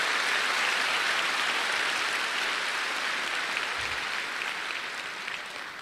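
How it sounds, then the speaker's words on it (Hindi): Sustained applause from an audience at an Amway motivational event, a dense, steady wash of clapping that fills the whole stretch and tapers slightly toward the end, with no talk over it. "एक जोरदार ताली दीजिए ऊपर वाले उस ईश्वर के लिए"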